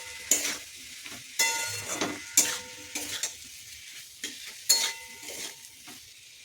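Boiled potatoes are mashed and stirred with black pepper in a pan with a little oil, heard as a series of sharp scraping strokes and knocks of a utensil against the pan, spaced about a second apart over a faint low sizzle.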